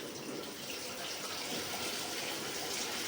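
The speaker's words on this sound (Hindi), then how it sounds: "तो अब जल्दी से इसको वॉश कर लेती हूँ।" Tap water runs steadily over a pressure cooker being washed in a kitchen sink, a close, continuous splashing rush with no one speaking.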